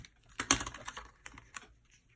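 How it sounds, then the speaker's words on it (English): A tape runner dispensing adhesive onto Whisper White cardstock in a papercraft project, giving a run of sharp close clicks and ticking rasps with a strong burst near the start and scattered softer ticks after, no talking. "Tape runner."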